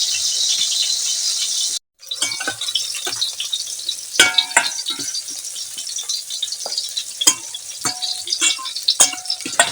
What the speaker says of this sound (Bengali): করলা আর ঢেঁড়স আর মরিচ কিছু কাটে নিছি করলা যেভাবে চাকা চাকা ভাবে কাটছি আর ঢেঁড়সগুলো কাটছি লম্বা লম্বা করে এখন আমি এগুলো তেলে ভাজবো